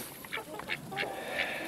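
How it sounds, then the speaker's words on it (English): New birds, likely ducks, out in the snow at an off-grid homestead give a handful of short quacking calls in an uneven series, fairly faint against a soft background hiss. "the first birds stayed in the house for now, and the new birds are outside"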